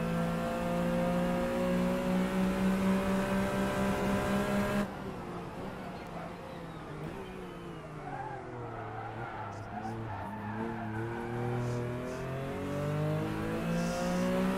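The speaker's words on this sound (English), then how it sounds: "it's a 911 RSR race car" Simulated Porsche 911 RSR race car in Assetto Corsa howling at high revs, then dropping sharply as it brakes and downshifts before climbing again, with tyre scrub audible through the corner.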